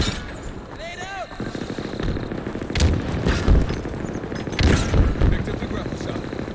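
In an Xbox shooter game, booming blasts and bursts of gunfire crack over a rumbling background, with a louder explosion midway and another near the end, while a voice talks over the action.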